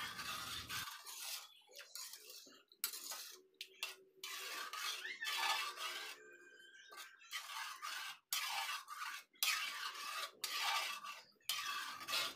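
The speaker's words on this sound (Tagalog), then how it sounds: "Haluin lang mabuti para matunaw ang asukal." A spoon stirring sugar into a maja blanca mixture in a pot, close scraping and clinking strokes against the metal in repeated bursts, with brief pauses between.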